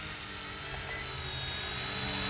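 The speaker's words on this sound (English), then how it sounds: "we're going to be looking at this small little spy drone" A small Eachine E110 spy drone hovers during automatic landing, its tiny propellers giving off a steady, high buzzing whine that grows slightly louder toward the end, with no other sounds.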